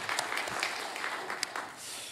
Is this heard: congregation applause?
yes